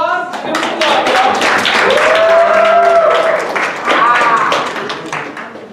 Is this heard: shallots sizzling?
no